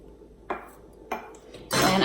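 Garlic, three small cloves, dropped into a bowl of Japanese steakhouse-style ginger dressing: two short clinks against the bowl, then a louder, sustained clatter and scrape near the end, close and alone without talk.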